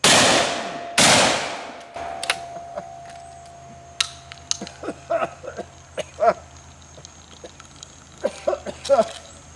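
Two loud, sharp reports from a Wild West gun ring out back to back at the start, followed by quieter metallic clicks and handling noises while someone talks.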